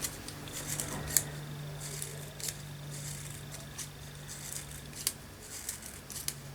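Scissors snip through paper during a mixed media craft project, giving a series of close, crisp cuts spaced irregularly over a faint steady background hum.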